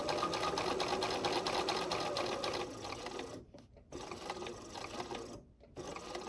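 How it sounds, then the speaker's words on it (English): A sewing machine stitches binding onto the corner of a quilt, a close, rapid mechanical chatter that runs continuously, then stops briefly twice before resuming. "I'm going to sew to 1/4 inch to the end"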